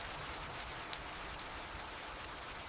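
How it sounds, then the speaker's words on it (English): Rain falls as a continuous soft hiss, scattered sharper drops ticking through the wash, with no voices. "The first heavy drops of rain begin to fall."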